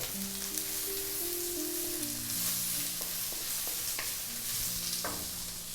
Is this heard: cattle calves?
no